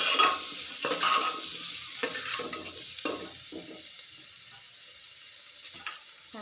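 Ground spices being stirred into whole spices in a pan for masala khichdi, a crackling sizzle with scraping spoon strokes at a loose rhythm, loud at first and fading as the stirring slows.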